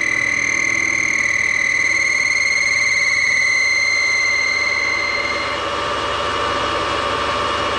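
A Lotus Twin Cam piston for a Mk1 Escort is honed to size, giving a steady, close, continuous high-pitched whine with ringing tones that holds for most of the clip before roughening into a broader hiss near the end. No one speaks.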